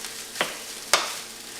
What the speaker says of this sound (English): The pepper adds just a little something magic. Stir it up real good.